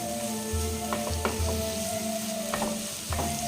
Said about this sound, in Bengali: পেঁয়াজ, আদা, রসুন, কাঁচা লঙ্কাটাকে খুব ভালো করে এবার ভেজে নেব।